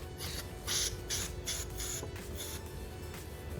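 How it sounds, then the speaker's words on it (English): Carburetor cleaner sprays in short hissing bursts into the fuel inlet of a 1995 Kawasaki Ninja 250 motorcycle carburetor, several quick pulses heard close and fairly quiet. "It should just spray out of these two holes."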